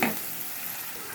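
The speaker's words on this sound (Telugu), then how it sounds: "ఇప్పుడు అల్లం వెల్లుల్లి పేస్ట్ వేసుకుందాం ఒక స్పూను" Ginger garlic paste, about a spoonful, hits hot oil in a pan with turmeric-coated ingredients, giving a steady close sizzle and fry hiss with stirring throughout, with no voices.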